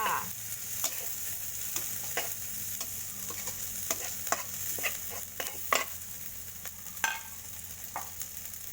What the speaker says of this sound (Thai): จากนั้นเราก็ใส่นี่เลยค่ะ ข้าวโพดฝักอ่อนนะคะ ลงไปผัดด้วยค่ะ